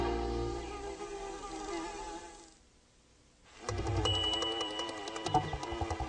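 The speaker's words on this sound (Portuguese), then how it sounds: "As abelhas movimentam-se pelo jardim em alta velocidade." Buzzing of bees flying through a garden, a continuous droning hum that fades briefly to near quiet, then returns louder and closer.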